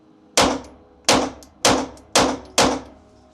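Five sharp, loud gunshots from a Daniel Defense H9 pistol at a shooting range, fired at a steady measured pace about half a second apart, each with a short ringing decay and no talking.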